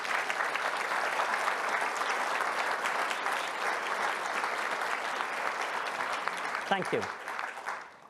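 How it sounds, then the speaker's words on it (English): An audience at a corporate AI event applauds, a sustained full-room wash of clapping that holds steady, then a brief spoken thank-you near the end as the clapping fades. "Can you please stand up and get a round of applause?"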